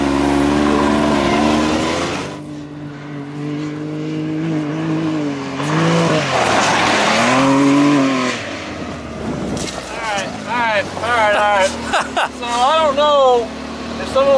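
Can-Am Maverick X3 side-by-side on LSR suspension powering through muddy whoops, engine droning and surging over the bumps with tire noise, while people talk and shout over the ride throughout.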